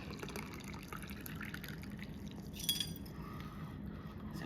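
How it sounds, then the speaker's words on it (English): Hot water poured into a cup holding a stainless steel tea infuser with loose leaf tea, a soft steady liquid trickle with a faint clink partway through. "And then all I've got to do is add hot water."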